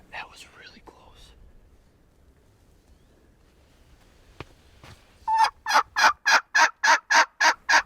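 Wild turkeys gobbling during a spring hunt, a rapid series of about ten loud, evenly spaced gobble notes close by after a quiet stretch with faint whispering.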